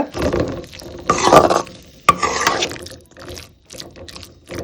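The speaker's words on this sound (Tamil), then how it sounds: "இப்போ நாம் அரைச்சி வச்சுருக்க பேஸ்ட்டை இதில் போட்டுடலாம்" A thick ground paste is stirred and scraped around a frying pan of cabbage and peas in uneven bursts, with wet sizzling and a sharp clink partway through.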